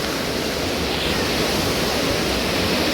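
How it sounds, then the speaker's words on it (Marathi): Water from the mountain pours down at the Gagangiri Maharaj Math in Khopoli during the rains, a loud, steady rushing hiss close by with no pauses or other sounds. "पाण्याचा आवाज बघा हा बघा"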